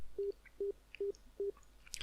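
A phone ringback tone in the video game Saya no Uta, four short, evenly spaced beeps close and clear, then a faint click at the end.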